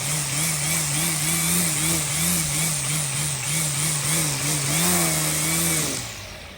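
Ego battery-powered string trimmer whirring steadily at high speed while cutting along a lawn edge, close and loud with a wavering pitch as the line meets grass, then spinning down at the end.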